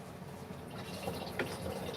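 Water is poured indoors into a container, a faint, steady trickling and dripping that stays quiet and close throughout, with no voices.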